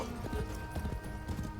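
Quick rhythmic hoofbeats pound from a galloping space horse in Warframe, a short burst of clopping strides over a dense backdrop of game music.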